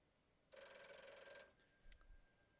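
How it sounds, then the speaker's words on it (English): A phone rings once with a bright electronic trill lasting about a second, then falls silent in a quiet room. "Hopefully my phone will stop ringing in just a second."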